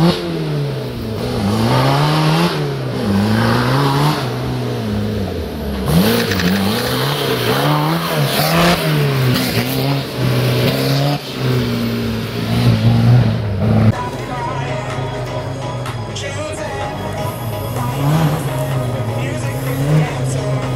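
A revving off-road 4x4 engine, a 1.9 TDI PD diesel on 35-inch wheels, strains and climbs in pitch up a hill, rising and dropping as it labors, with a voice talking over it.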